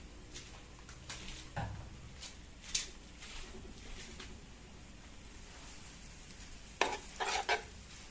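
Lo mein noodles with stir fry sauce are tossed in a hot pan, giving a soft steady sizzle broken by several sharp scraping and clattering stirs of tongs against the pan.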